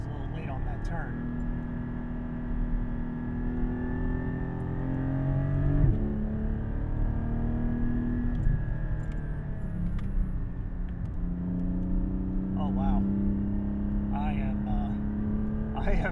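A 2021 Porsche GT4 engine revs high while driving, its pitch climbing and falling through gear changes across the stretch, steady and close, with someone talking over it.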